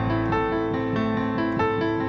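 A piano plays a steady repeating octave pattern in the left hand under right-hand notes, with an even ticking rhythm like a clock, close and clear with no talking.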